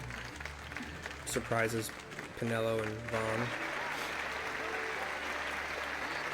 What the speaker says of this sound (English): There is a lot of applause.